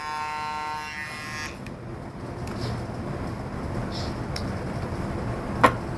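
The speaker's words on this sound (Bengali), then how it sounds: "এটার স্পিড খুবই স্ট্রং স্পিড এবং স্মুথলি কাটতে পারে লং টাইম ব্যাটারি লাইফ এই কিমাই ট্রিমারের" A Kemei KM-1015 all-in-one electric trimmer runs with a steady, close motor buzz, a higher whine at the start settling into an even hum, and one brief click near the end.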